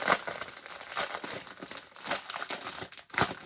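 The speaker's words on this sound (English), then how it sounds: "I didn't take it out of the plastic, so I'll do that right quick. Sorry for the crinkling." Plastic packaging around a bead kit crinkles and crackles continuously as it is unwrapped by hand, close and fairly loud, with sharper crunchy bursts throughout and no talking.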